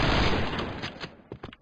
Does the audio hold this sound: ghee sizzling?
no